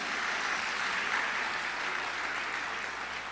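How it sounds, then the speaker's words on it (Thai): A church audience claps in a sustained, even burst of applause that fills the room without pause. "พี่น้องปรบมือหน่อย"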